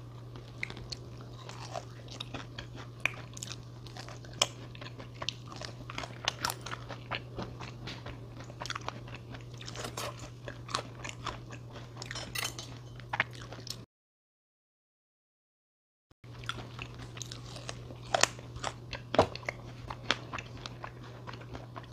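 Crunchy fried chicken being bitten and chewed up close, with repeated crisp crackling bites and crunches, a short silent gap midway, and no talk.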